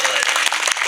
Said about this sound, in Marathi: वाजवा टाळी जवळ एकदा